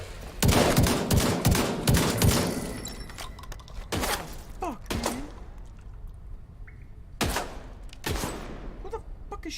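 Bursts of gunfire from the video game The Division 2, with a dense barrage of shots for the first couple of seconds, then scattered single cracks and short volleys later, sounding close and loud with no speech.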